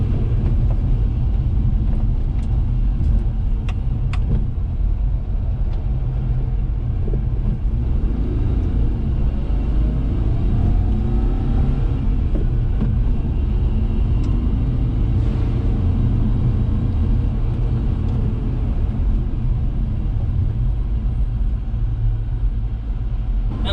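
Daihatsu Hijet kei truck driving, its small engine a constant loud low rumble heard from inside the cab, with faint rising whine during a turn and no talk.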